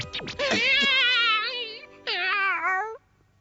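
A cartoon cat gives two drawn-out, wavering meows close up, the first long and the second shorter after a brief pause. Each is loud and clear, ending in near silence.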